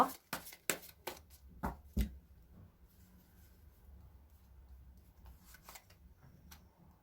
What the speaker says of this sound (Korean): 과연 그럼 이 분들이 여러분들을 지금 현재 어떻게 생각하고 있는지에 대해서 한번 카드를 뽑아보도록 할게요